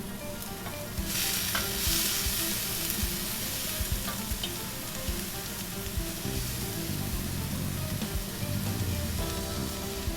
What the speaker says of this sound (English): want to add the onions, saute the onions, the peppers